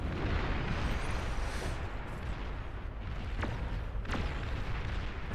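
Long-range missiles launched by Arbiter units in the real-time strategy game Beyond All Reason, heard as a few sharp distant bursts over a constant battle rumble.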